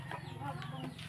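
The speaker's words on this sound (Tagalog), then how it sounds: "Mga manok" Chickens clucking softly nearby at a rural farmyard, a few faint, short calls over low background noise.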